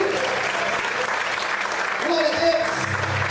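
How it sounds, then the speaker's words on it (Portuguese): Church congregation applauding steadily in a hall, a dense continuous wash of clapping at moderate level with voices faintly underneath. "Você pode aplaudir e exaltar o Senhor."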